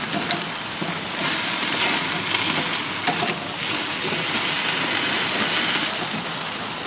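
Crab-stuffed lobster tails, already blanched, sizzle meat side down over an open grill flame, a steady close broadband hiss and crackle running throughout with no talking.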